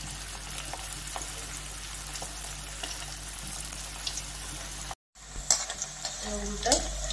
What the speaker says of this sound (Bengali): তেল গরম হয়ে গেছে, আমি একটা একটা করে ছাড়ি।